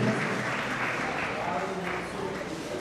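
Crowd applause for donors at a community event of a Mumbai-Pune friends' association, a steady wash of clapping over a few seconds with voices mixed in.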